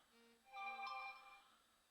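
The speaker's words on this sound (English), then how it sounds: "There goes my phone again." A mobile phone ringtone chimes in a short melodic pattern, faint and slightly muffled at first, then swelling briefly louder before settling back, heard alone without talk.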